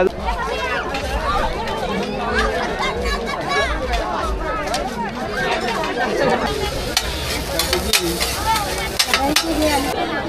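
Onion bhaji (kanda bhaji) frying at a village fair stall, with steady loud sizzling and stirring throughout. A crowd chatters in the background, and voices talk over the cooking.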